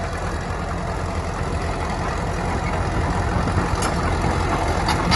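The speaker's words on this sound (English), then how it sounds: "Steam traction engine." An antique steam traction engine runs close by at a show, a dense continuous low mechanical rumble with steady churning noise and a few brief higher clanks near the end.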